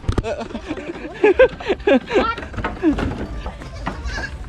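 Boer goats bleating on a goat farm in rural Thailand, several wavering calls in quick succession, close and loud, with someone talking and calling out between and over them.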